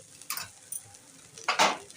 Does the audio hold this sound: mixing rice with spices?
yes